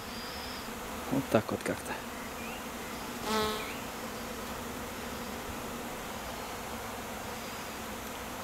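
A honeybee swarm without a queen arriving and clustering, with bees crawling over hands and settling in grass outdoors; a close buzzing pass stands out briefly over steady background hum, with a short stretch of speech just before it.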